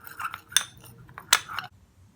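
A spoon stirs homemade night cream ingredients with glycerin in a small bowl, giving a few quiet scrapes and two sharp, bright clinks against the container. No voices.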